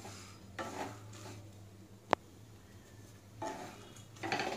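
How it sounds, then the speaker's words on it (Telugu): Dry fruits frying in a pan for a sugar-free laddu, quiet close clinks and scrapes of a spoon stirring in a few bursts, with one sharp metallic knock midway, no voices. "మంచిగా అన్నీ మంచిగా కలుపుకుంటా ఫ్రై చేసుకోవాలండి."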